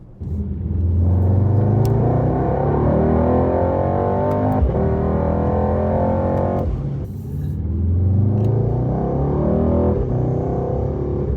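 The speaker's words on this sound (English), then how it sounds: "And just listen to that V8 roar." A Mercedes-AMG GT 63 S V8 engine roars loudly and close, building in two long surges of deep rumbling acceleration with a short drop in revs between them, no voices over it.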